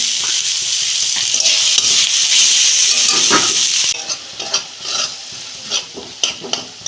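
Turmeric, chili and cumin powder sautéing in a pan with spices, a loud sizzle under steady stirring that drops away midway to intermittent scraping and soft frying crackles.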